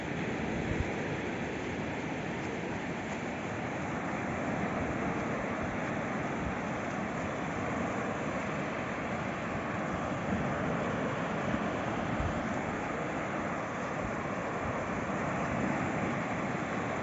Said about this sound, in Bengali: খোলা সমুদ্র, খোলা আকাশ